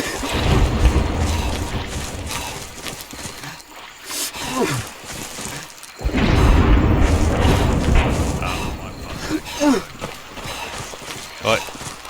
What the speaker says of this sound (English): We're out running artillery